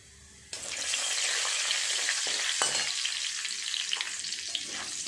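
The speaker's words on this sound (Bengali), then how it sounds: "ফোড়নটা ভাজা হয়ে গেছে" Tempering spices of asafoetida, bay leaves, dried chillies and cumin hit hot oil for potato dum, bursting into a loud, continuous crackling sizzle with occasional stirring scrapes, close and without any voice.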